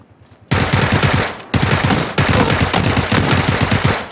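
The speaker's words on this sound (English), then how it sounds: "Start shooting" Rapid automatic gunfire in a battle royale video game, loud and close, coming in dense bursts after a brief quiet start, with a short break around the middle before the firing resumes.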